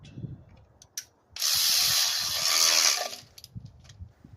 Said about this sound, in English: you can go ahead and tighten this bolt